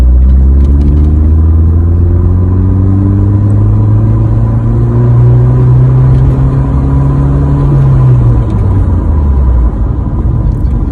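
A car bedding in new brakes accelerates to about 45 and then brakes hard. The engine drone climbs steadily in pitch and loudness, then drops away toward the end.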